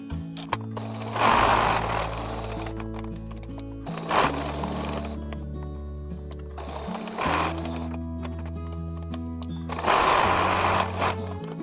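A sewing machine stitches a bag made from a worn Longchamp bag, running in several bursts of rapid mechanical whirring separated by short pauses, close and clear.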